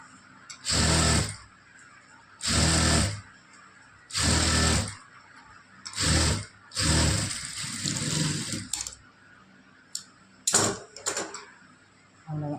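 A sewing machine stitches the sleeve of a lined blouse in four or five short whirring bursts separated by pauses, close and loud, with a few clicks and handling knocks at the end.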